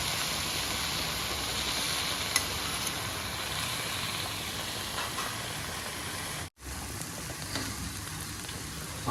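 Spice masala of cumin, coriander and black pepper with ground paste fries in a pan for a mutton chana masala, a steady broadband sizzle running throughout with a brief dropout near the end and no talk.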